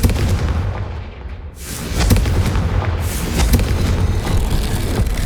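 A Confringo blasting spell from Hogwarts Legacy bursts in a broad, loud boom near the middle, followed by a rumbling, crackling tail and a second softer burst, all without speech.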